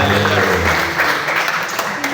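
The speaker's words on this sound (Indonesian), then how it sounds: "Mari kita berikan tepuk tangan." Congregation applauding at a Sunday morning church service, a dense wash of clapping across the hall that runs continuously, loud and close, with some voices mixed in.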